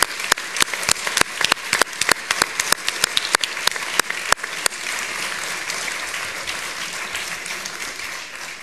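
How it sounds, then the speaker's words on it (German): An audience applauds at the close of a German talk about dignity, with dense clapping and sharp individual claps for about five seconds before the applause thins into a steady softer wash. "Applaus uns allen."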